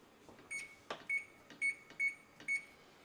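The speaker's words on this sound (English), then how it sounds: "So I'm going to go ahead and preheat my oven right now too." Electronic oven beeping while it is set to preheat for maple popcorn: a run of five short, high, clear beeps at an even pace under a faint room hum, with a soft knock partway through.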